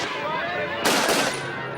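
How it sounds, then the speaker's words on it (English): Police gunfire in Soweto in 1976, archival: a sudden loud burst of several rapid shots around the midpoint, then fading ringing over a dense noisy background. "white police who opened fire on them"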